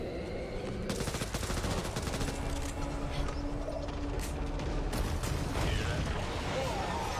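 Rapid crackling pops of firecrackers in Apex Legends, dense and continuous, layered with game noise and a voice talking over it.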